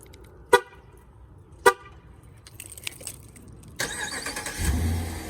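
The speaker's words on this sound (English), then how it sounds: "You telling me this guy got remote start?" A car is started by remote start: two sharp electronic chirps a second apart, then the engine cranks and catches, settling into a steady, close idle.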